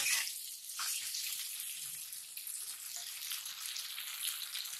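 Barbel fish with green chillies fries in a pot, giving a steady, close bright sizzle and crackle throughout, with no talking.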